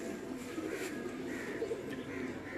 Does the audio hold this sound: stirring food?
no